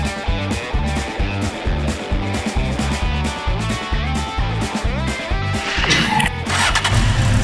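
A cartoon race car's engine starts and revs after being swapped for a more powerful one, a rhythmic pulsing motor that builds into a louder rising rev near the end, close and steady.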